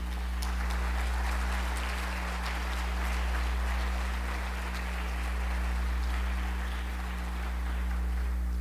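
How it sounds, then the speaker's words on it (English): Audience applause at the 13th Annual Marion County Student Media Festival, a steady broadband patter of clapping lasting throughout, set over a constant low electrical hum, with no talking. "Clap for yourselves."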